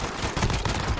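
Rapid pistol gunfire in a 3v3 Gunfight video game, several close, loud shots in quick succession filling the brief moment with a dense crackling burst.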